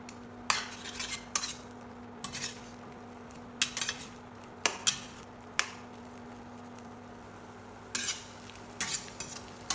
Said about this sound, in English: Use a spatula to separate the eggs into smaller pieces and stir them around